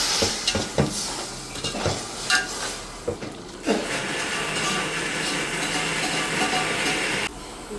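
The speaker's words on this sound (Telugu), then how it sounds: "ఉప్పు పసుపు వేసుకుని మొత్తం ఒకసారి మిక్స్ అయ్యే విధంగా కలిపేసుకుందాం" Sautéed greens cooking in oil with salt and turmeric are stirred in a pan, with a series of close spatula scrapes and knocks over a continuous frying sizzle that runs loud through the latter half.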